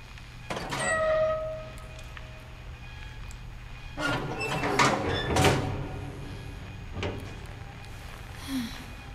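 A train passes in the video game What Remains of Edith Finch, with rumbling and a few harsh, brief bursts at a moderate level, standing alone without talk.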